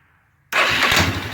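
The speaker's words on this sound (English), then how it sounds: "So I'm going to turn the key on. No choke, should be somewhat warmed up." A somewhat warm engine fitted with an aftermarket Chinese carburetor, started without choke, catches suddenly after a quiet moment and settles into a loud, close, rough-running roar.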